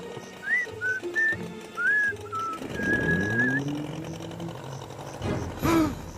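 A cartoon character from Total Drama All Stars whistles a short melodic tune in clear rising and falling phrases, backed by a swelling orchestral music score that builds under and after the whistling.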